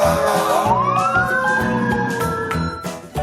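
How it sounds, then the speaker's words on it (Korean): A fire truck siren sweeps upward in one long rising wail and holds high, loud and near, over a dense mechanical drone with a few sharp clanks. "Fire truck."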